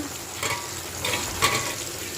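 Steady crackling sizzle of food frying in a pan, close up, with a few louder pops and stirring scrapes.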